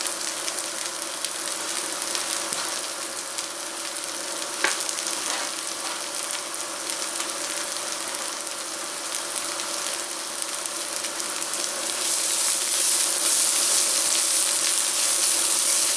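Vegan chorizo made from hibiscus flowers sizzles steadily in a pan, a continuous broadband crackle and hiss that runs unbroken and grows a little louder near the end, with no voices.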